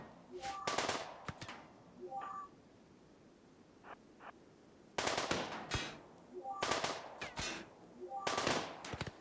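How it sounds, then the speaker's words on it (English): Gunfire in the video game RimWorld comes as bursts of rapid shots in several clusters, with quieter pauses between volleys and no voices. "Nord, you shoot this thing"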